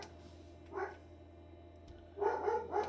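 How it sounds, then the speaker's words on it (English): A dog barks at the door indoors: one short bark, a pause, then two quick barks, all moderately close and alone without talk. "sorry if you heard my dog"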